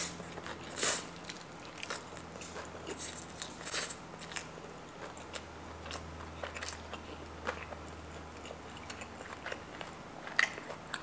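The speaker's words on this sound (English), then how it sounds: "Let's try some of the ramen with the kimchi pancake." Close-up eating of Korean ramen with kimchi pancake gives quiet, irregular bites, crunches and chewing sounds with soft slurps, scattered across the whole stretch with no talking.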